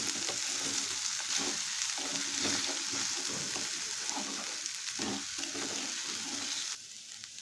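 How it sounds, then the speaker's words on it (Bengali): Egg stirred into semolina frying in a pan gives a continuous close sizzle with soft scraping stir strokes, steady throughout and easing slightly at the very end, with no talk. "এবার একটা খুঁজিতে এভাবে একটু ঘেটে দিতে হবে"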